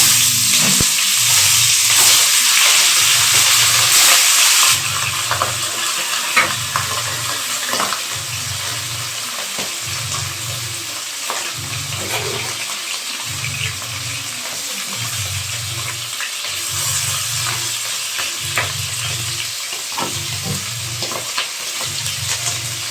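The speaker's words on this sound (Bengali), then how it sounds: "তেলটা গরম হয়ে গেছে, মাছগুলো এবার কড়ার মধ্যে দিয়ে দেব।" Fish frying in hot oil in a wok, a steady loud sizzle with bursts of crackle and spattering, plus periodic low rhythmic thumps underneath; no talking.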